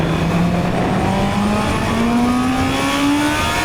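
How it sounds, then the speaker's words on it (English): A Honda CB650R motorcycle accelerates hard up to speed on a highway on-ramp, its engine note climbing steadily in pitch through a gear, loud and continuous with heavy wind and road roar. "I've opened it up on some highway on-ramps and some highways accelerating up to speed"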